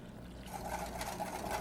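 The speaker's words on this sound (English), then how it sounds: "We're just going to pour that in." About two cups of milk poured into instant vanilla white chocolate pudding mix, a steady close liquid pour that starts partway in and continues evenly to the end.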